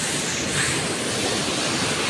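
Sea surf along a shoreline, a dense, continuous wash of broadband water noise with wind buffeting the microphone, steady and fairly close with no voices.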